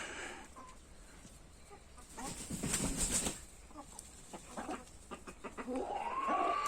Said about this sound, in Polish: Piękne te moje koguty.